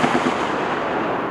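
M2 Browning heavy machine gun firing at targets on a National Guard range, a loud, dense burst of booming reports that ends in a rumbling echo.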